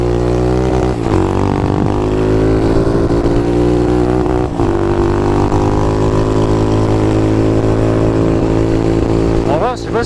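A Honda Dax 140 motorcycle engine, heard up close from the rider's position, holds a loud steady drone, with its pitch climbing and dropping as the throttle opens and the gears change under the rider's talking.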